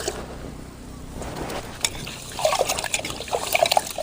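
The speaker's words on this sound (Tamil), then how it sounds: "தண்ணி ஊற்றி சுத்தம் பண்ணி எடுத்துக்கலாம்." Water is poured over store-bought raw rice in a pot to wash it, a faint trickle at first that grows into louder splashing and swishing toward the end.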